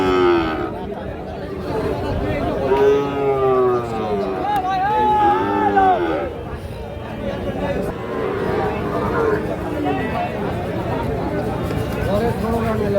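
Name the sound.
Sahiwal bull calves mooing at cattle market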